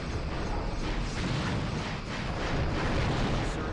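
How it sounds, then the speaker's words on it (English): Photon torpedo explosions roar through a Star Trek starship battle game as the USS James T. Kirk fights a Romulan Cormorant, a dense, continuous rumble of blasts and booms with no pauses, loud and close throughout. "Oh man, look at all those torpedoes!"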